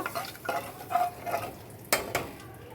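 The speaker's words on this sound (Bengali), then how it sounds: "পরিমাণ মতন জল দিয়ে ভালো করে নেড়ে ঢাকা দিয়ে দেবো" A spoon stirs ghugni, a dried pea curry, in a pan after water is added, making soft rhythmic scrapes and wet sloshing with a couple of sharper knocks against the metal, close and fairly quiet.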